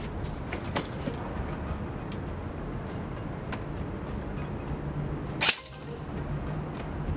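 An airsoft rifle with a Magic Box Miracle Barrel fires a single 0.20 gram BB at a 60-yard range, a sharp, fairly loud pop standing out briefly over steady outdoor background noise.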